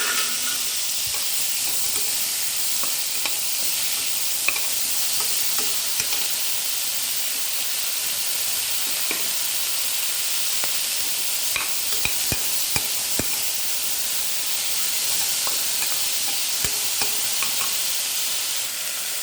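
Tomatoes sizzle in hot oil in a pan for vegetable biryani, a continuous frying hiss with scattered scraping and tapping as a spoon stirs them, close and steady without any talk.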